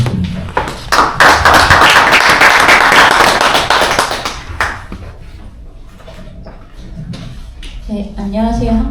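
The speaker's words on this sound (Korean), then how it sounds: "큰 박수 부탁드립니다" An audience at a Korean technical forum on thermal bridge insulation gives a dense burst of applause for about four seconds, which thins to scattered claps before a voice begins at the end.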